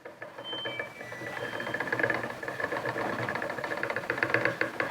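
Flax being spun into linen yarn on a spinning wheel, a steady whirring hum with a fast rhythmic clatter of the turning wheel and treadle, close and continuous.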